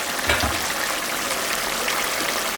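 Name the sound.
fish curry with khanman stalks boiling in a pot after lifting the lid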